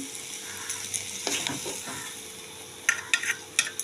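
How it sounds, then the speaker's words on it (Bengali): Water spinach (kalmi greens) frying in oil, a steady close sizzle with stirring scrapes and a few sharp utensil taps toward the end, no voices. "ভাজা হয়ে গেল যেটাকে আমরা তেল কলমি বলি"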